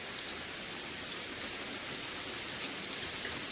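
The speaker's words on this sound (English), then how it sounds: "We get a lot of rain lately." Rain falls steadily in North Carolina as a soft, even hiss of drops on surfaces, continuous and fairly quiet, with no talking.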